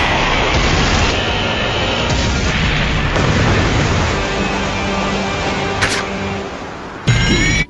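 Ships exchange gunfire in the One Piece anime: a dense, loud, continuous roar of booms and blasts with a few sharp cracks near the end.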